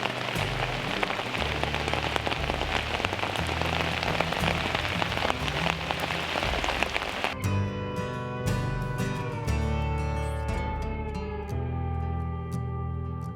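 Steady rain pours down on a surface while fishing for late coho in the Pacific Northwest, a dense continuous hiss, and partway through music comes in over it.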